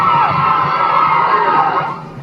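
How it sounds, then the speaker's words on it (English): A crowd at a marching band competition cheers and shouts loudly as a rating is announced, a bright sustained roar of voices with high screams that fades off near the end. "The cheering says it all"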